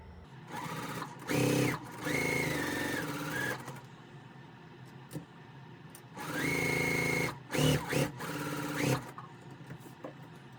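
Close sewing machine stitching a quilt block for a pressed flowers quilt, running in two distinct bursts of a few seconds each with speed changes, separated by quiet pauses with small handling clicks.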